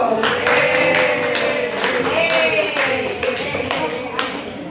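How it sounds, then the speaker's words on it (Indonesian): Applause welcoming a speaker to a mentoring session: a steady patter of claps from a modest group, heard alongside speech. "kita sambut bersama dengan tepuk tangan yang meriah untuk Bapak Yusuf"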